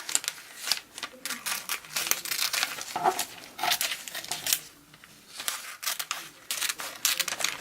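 Paper being cut with scissors for an edible floral bouquet, quick crisp snips and rustling crinkles in close bursts, with a person talking in between.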